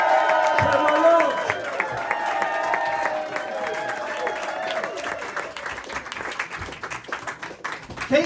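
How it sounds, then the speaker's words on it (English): A Saturday night comedy club audience in Camden applauds and cheers loudly, with sustained dense clapping, a few whoops and a host's voice calling out over it. "Keep the applause going!"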